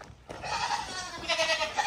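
Goats bleat close by inside a trailer, a few overlapping cries rising after a brief quiet start.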